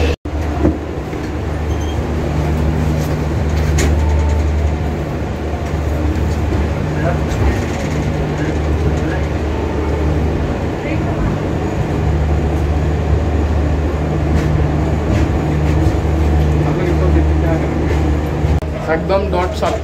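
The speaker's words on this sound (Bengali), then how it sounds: "একদম ডট 7টা 20-তেই আমাদের ট্রেনটা নিউ জলপাইগুড়ি থেকে ছেড়েছে" The NJP to Alipurduar tourist special train with a Vistadome coach rumbles steadily as it departs and runs, a continuous low drone and rail noise heard from on board for about twenty seconds, with people talking throughout.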